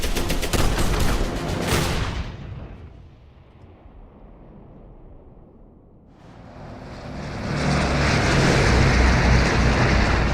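Gunfire from the World War II shooter Medal of Honor Airborne: a loud dense burst of shots cuts off abruptly, a quieter lull follows, then a heavy rumbling barrage swells back in and sustains.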